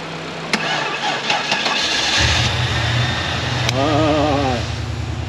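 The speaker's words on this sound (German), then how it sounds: "Da blubbert doch der V8." A Cadillac 4.6-litre V8 cranks and catches, then settles into a loud, steady burbling idle close to the microphone, with brief higher whirring partway through.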